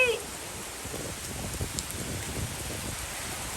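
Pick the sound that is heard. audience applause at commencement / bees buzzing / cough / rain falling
rain falling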